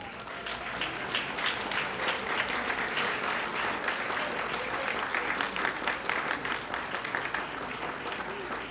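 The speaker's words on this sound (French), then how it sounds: "recevoir un chaud applaudissement de l'Assemblée" Warm, sustained applause from an assembly honoring new graduates at a paramedical school graduation ceremony in Haiti, a steady dense patter of many hands with a faint murmur beneath it.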